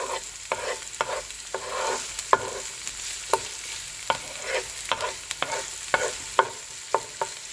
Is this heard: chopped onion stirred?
yes